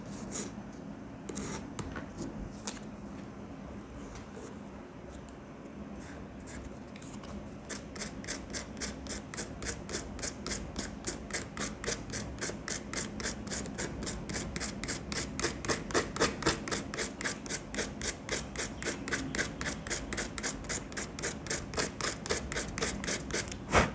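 A new motorcycle helmet's surface gets rubbed by hand, first in scattered strokes and then in a fast, steady run of close, regular back-and-forth swishes, with no one speaking.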